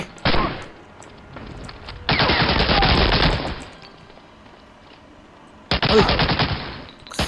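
Machine gun fire in Medal of Honor: Allied Assault comes in three loud, sustained automatic bursts, the longest lasting several seconds, separated by quieter gaps.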